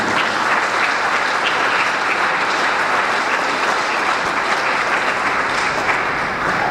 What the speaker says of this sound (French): Si vous voulez, applaudissez pour une fois pour cet honneur fait au pays.